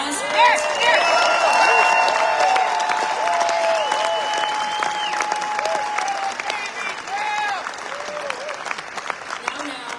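A large live audience in Edmonton bursts into loud applause for energy workers, sustained clapping mixed with cheers and whistles, peaking early and then easing slightly while continuing to the end.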